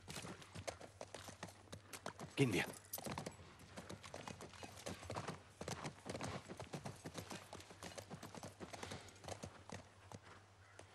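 Horse hooves clip-clop steadily on the ground in The Last of Us Part 1, a rhythmic run of close, moderately loud steps with a brief louder burst early on, under someone speaking German.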